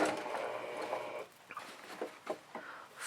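A sewing machine chain-piecing fabric masks starts with a back stitch: about a second of steady close mechanical whirring, then several short separate bursts of stitching.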